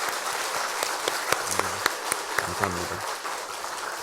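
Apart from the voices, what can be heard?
congregation applauding the pastor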